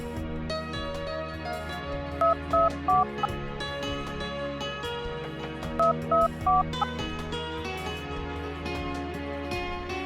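Two quick runs of telephone keypad tones sound as a call to dad is dialed, each burst of beeps standing out over steady background music.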